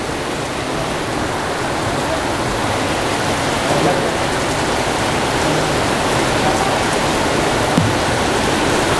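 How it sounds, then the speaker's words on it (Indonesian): Heavy rain pours steadily throughout, a dense, even hiss of downpour that stays constant from start to finish with no clear voices above it. "Ini karena hujan."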